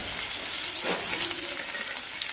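Onion, tomato and vegetables fry in oil in a pan with a continuous close sizzle and hiss, plus a slight stirring scrape partway through, no voices.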